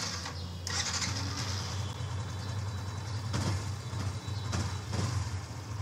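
A motorcycle engine started through a Tasslock remote: a steady, close idle rumble runs throughout, with a few brief louder surges rising over the running engine.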